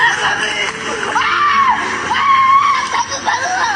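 A minor boy screams and cries while being beaten, his loud, wavering wails rising and falling over several seconds amid harsh noise and other voices.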